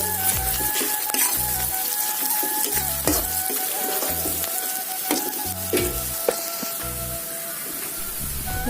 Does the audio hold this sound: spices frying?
yes